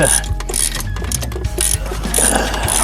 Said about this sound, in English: we'll go ahead and use the ratchet on these two